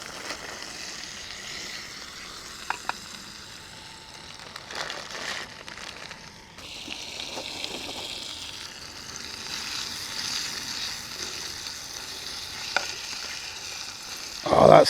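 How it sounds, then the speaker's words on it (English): Spicy beef stir fry sizzles steadily in a pan over a wood-burning backpacking stove, a continuous close frying hiss with occasional pops and crackles throughout. "Spicy beef stir fry. Let's get it in the pan."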